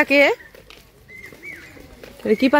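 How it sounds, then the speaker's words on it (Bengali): A bird calls on a foggy village morning beside mustard fields, a short thin call rising between bursts of nearby talk. "এটা কি পাখি"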